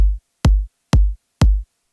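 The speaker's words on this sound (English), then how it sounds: "The kick in the drop is made with Sonic Academy's kick plugin tuned to the note of G" A short, punchy kick drum tuned to G, made with Sonic Academy's kick plugin, hits four times at an even pace, each thump opening with a sharp click and dropping quickly into a deep tone, with nothing else playing.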